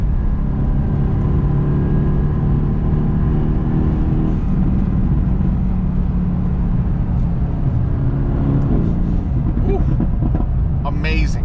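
A car engine revs and pulls hard in gear on a winding road, a loud, steady drone with rising roar throughout, while a person talks over it.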